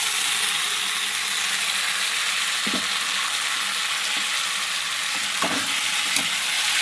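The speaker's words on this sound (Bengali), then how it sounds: "এবার আমি নেড়ে চেড়ে এইভাবে আমি পটলটা ভেজে নেব" Pointed gourd and onion sizzle loudly and evenly in a pan, the dense frying hiss broken by a few soft knocks as a spatula stirs the pieces.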